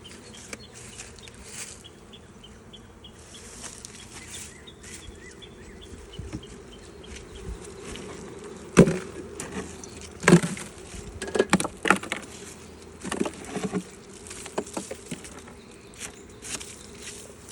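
Honeybees buzz steadily around an open, heavily packed hive with two stacked boxes, a dense continuous drone up close, punctuated by louder passes of individual bees near the microphone and a few soft handling knocks.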